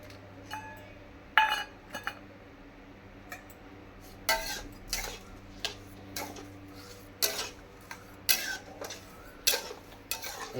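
Metal utensil stirring papaya sandesh with sugar in a pan, giving irregular sharp clinks and taps against the pan at close range, scattered unevenly with no talking.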